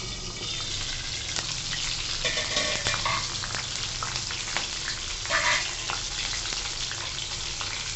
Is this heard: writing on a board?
no